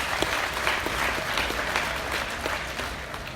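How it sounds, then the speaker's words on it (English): Crowd at a livestock show's grand drive applauds for the exhibited animals, a steady, fairly loud wash of clapping with scattered sharper claps, under a low background rumble. "Let's give them one more round of applause with this weekend."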